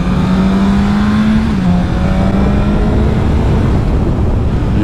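A 2021 BMW S1000RR motorcycle rides along a road, its engine a loud continuous drone with a pitch that holds, dips slightly, then rises again as it runs alone without talk.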